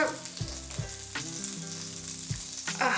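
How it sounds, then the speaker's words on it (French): Sausage and onion sizzle steadily in a hot pan for homemade hot dogs, a close, continuous frying hiss with a few soft clunks as food is added and moved, no talking. "on va mettre un tout petit peu d'oignon dans le fond. Voilà, on va mettre la saucisse."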